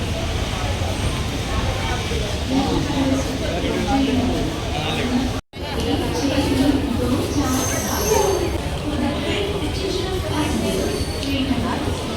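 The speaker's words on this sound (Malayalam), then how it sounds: "ട്രെയിൻ വരുന്നുണ്ട്" A steady, loud rumble of a train with rail and engine noise, people talking nearby over the din, and a brief cut midway.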